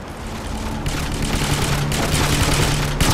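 Rapid video game gunfire in a dense, continuous fusillade of overlapping shots, loud and near, building after the first second and rattling on steadily to the end.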